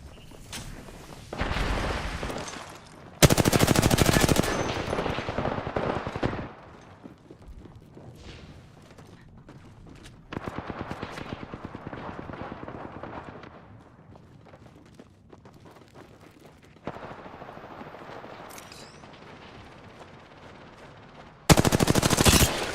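Smart bullets fired in Final Fantasy XVI: repeated bursts of loud, rapid automatic gunfire come in separate volleys with quieter gaps between them.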